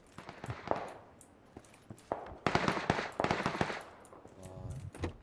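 Rapid bursts of automatic gunfire and bullet impacts in a PUBG firefight, with loud sharp cracks clustering and overlapping through the middle and end, some shots near and others more distant.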